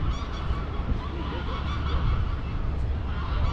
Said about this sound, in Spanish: Muchos patos.